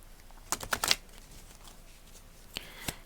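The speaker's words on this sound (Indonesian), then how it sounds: "Boleh silahkan dibayangkan wajahnya sambil saya shuffle kartu ini." Tarot cards shuffled in a few quick crisp bursts of riffling and slapping paper, close and fairly soft, with quiet gaps between bursts and no talking.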